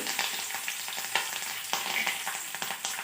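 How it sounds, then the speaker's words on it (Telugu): Tempering spices crackle and sizzle steadily in hot oil in a pan, with scattered sharp pops and spatters and occasional stirring scrapes, close and fairly loud, no voices. "పోపు దినుసులు అన్నీ బాగా వేగినాక కరివేపాకు"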